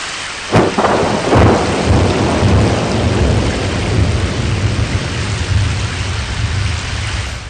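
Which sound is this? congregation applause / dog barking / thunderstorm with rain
thunderstorm with rain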